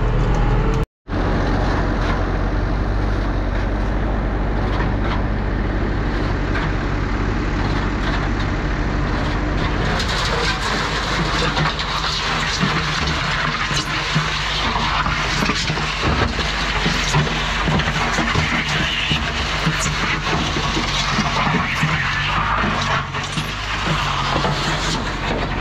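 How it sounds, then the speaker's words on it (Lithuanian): A concrete mixer drum turns with stones inside, making a loud continuous rumbling churn of grinding and rattling rock that holds steady after a brief cutout near the start and grows harsher partway through. "Mašina, garsas tai baisus tų akmenų."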